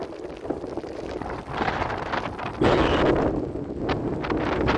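Strong wind buffets the microphone in loud, roaring gusts during a storm with rain near Glenmore Reservoir, with a continuous rushing noise and no voices.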